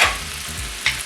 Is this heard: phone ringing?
no